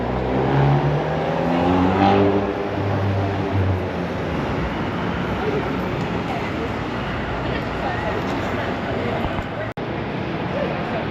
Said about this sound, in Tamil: வோல்க்ஸ்வேகன் சவுண்டை கேளுங்க